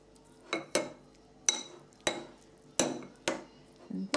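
Metal spoon clinking and scraping against a bowl as chia seeds are stirred into cooked millet porridge, a series of about eight sharp close clinks at uneven intervals with soft scraping between.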